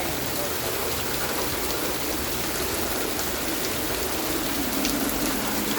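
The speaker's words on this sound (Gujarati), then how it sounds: "બહુ વરસાદ છે." Heavy monsoon rain pours steadily onto a flooded street in Porbandar, Gujarat, a dense, continuous hiss of drops and running water that stays loud and even throughout, with no talk over it.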